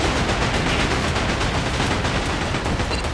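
Ship cannons fire in a naval battle in the video game Like a Dragon: Pirate Yakuza, producing a dense, continuous roar of rapid booming blasts and crackling gunfire, loud and unbroken throughout.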